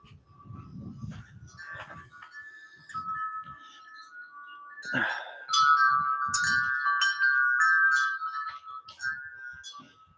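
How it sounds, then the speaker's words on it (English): Bright metallic chimes ring and tinkle in irregular clusters, sustained tones overlapping, with a few low thumps and handling noises underneath. "you can probably hear the wind chimes in the background"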